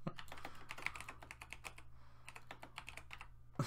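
Rapid clicking of fingers typing on a computer keyboard, close and fairly quiet, in quick bursts with a short pause midway and no talking.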